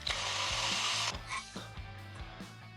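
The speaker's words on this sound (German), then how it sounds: "Da sind jetzt zwei M6er Schrauben drin. Die machen wir raus." Two M6 bolts being worked loose from the oil pan of a BMW R 45-100 motorcycle, a ratcheting tool clicking in a steady rhythm close up, with a brief burst of broadband noise at the start and no talk.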